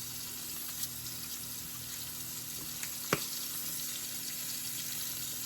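Pork chops sizzle steadily in a frying pan on a stovetop, cooking a little too fast: a continuous hot crackling hiss with a few sharp pops, close and fairly loud, with no talking.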